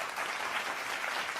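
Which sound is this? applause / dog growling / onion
applause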